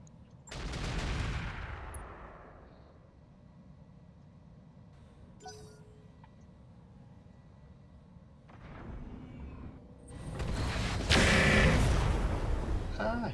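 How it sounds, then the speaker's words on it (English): Heavy booming blasts from bombs in a mech combat video game, one deep explosion early and a longer, louder roaring burst near the end, with rumbling background between. "Ah, he dropped a bomb."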